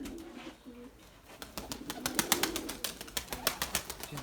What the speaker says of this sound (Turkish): Şuna şu kuşa iyi bakın arkadaşlar. Geleceğin şampiyonu bu.